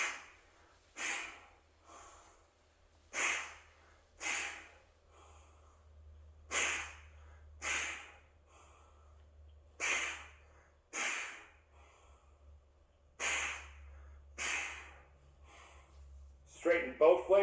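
An athlete breathes hard through an exercise movement in which the leg drives the push, then swing, pull, catch and a rotation back to center. About a dozen sharp, close breaths come in a steady rhythm roughly once a second, with no talking.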